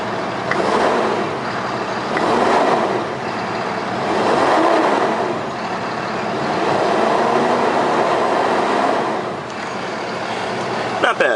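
A 2015 Freightliner M2 106 truck's engine runs as a steady, rumbling drone with swelling surges, fairly close and continuous throughout.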